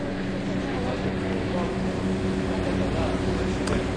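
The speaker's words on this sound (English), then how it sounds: "the float plane's just going to climb and then turn to the west" A steady propeller engine drone hums continuously at moderate distance as a small float plane takes off from water, with people talking over it.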